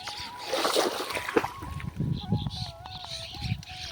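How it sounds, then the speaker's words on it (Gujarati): Irrigation water splashes and gurgles through channels in a bajra field, close and uneven, with voices talking over it and a thin whistling tone in the background. "આ પાણી જુઓ 2 રેલે હેડે છે, એક આ બાજુ રેલો જાય છે"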